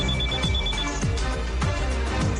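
A telephone rings during a fast-paced money-collecting challenge, its bright repeating tone sitting over a dense, busy backdrop of music-like sound that runs throughout.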